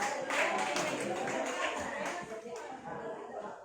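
Audience clapping at a university faculty-of-law dean candidate presentation and inauguration, a steady patter of hands mixed with chatter and voices throughout.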